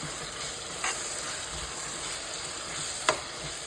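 Steady sizzling and frying from a hot pan as tomatoes go in for a Telugu-style brinjal (vankaya) curry, with a couple of brief stirring clinks over the continuous hiss; no voices.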